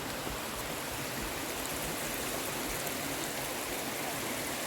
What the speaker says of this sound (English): Beautiful waterfall there.